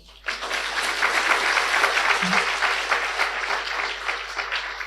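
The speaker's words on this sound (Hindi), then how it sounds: "ताली बजाओ।" A class audience breaks into loud applause that starts abruptly and holds as a dense, even wash of clapping for several seconds.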